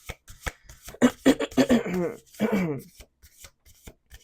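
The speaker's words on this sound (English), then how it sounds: "We're going to do two more shuffles." Cards being riffled and shuffled up close, a burst of rapid fluttering clicks between sharper taps, with no talking.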